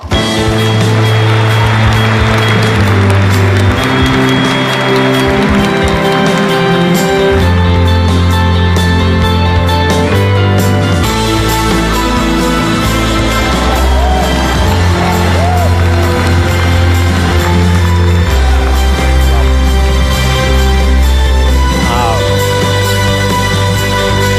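Audience at a business talk with Jack Ma in Detroit cheering and applauding his entrance, a loud crowd roar blended with strong music throughout, whoops rising over the steady mix.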